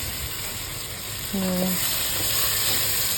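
Chopped tomatoes fry slowly in a pan for avalakki upittu, a steady, even sizzle with a brief tonal clink partway through, while a voice talks faintly in the background.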